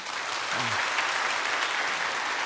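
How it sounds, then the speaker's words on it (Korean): A church congregation at a Sunday worship service claps in welcome for a visiting pastor, a steady, full round of applause with a brief low voice near the start. "우리 함께 환영하는 박수 하겠습니다"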